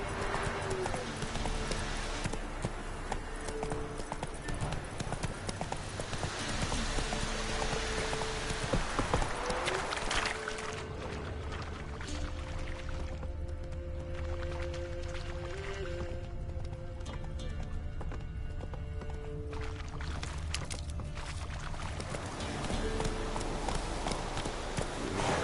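Hooves of Roach, the horse in The Witcher 3, clip-clop steadily at a gallop through the whole stretch, close and clear over a low game soundtrack, with a brief whinny possible.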